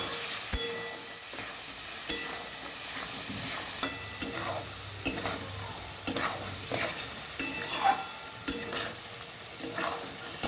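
Spice masala sautéing in a pan for a Bengali potato curry, with steady frying hiss and repeated scraping stirs of a spatula at an even rhythm, close and moderately loud, no talking.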